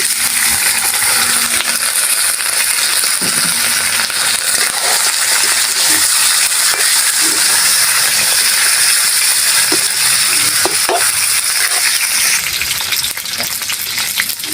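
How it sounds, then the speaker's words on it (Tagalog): Onions sautéing for humba, a steady broadband sizzle of frying in a pan running throughout, with occasional light clinks and scrapes of stirring, close and continuous. "Sibuyas. Gigisa lang natin."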